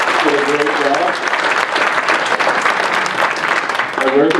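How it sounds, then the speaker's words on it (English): An audience at a mayoral candidates' forum gives a big, loud round of applause for the moderator, dense continuous clapping filling the room, with a voice talking over the start and end. "giving Brent Hodson a big round of applause for moderating for today"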